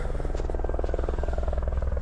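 A helicopter arriving at Fort Selkirk in the remote Yukon wilderness, its steady rotor thump and engine drone loud and close, filling the whole stretch with a continuous pulsing buzz.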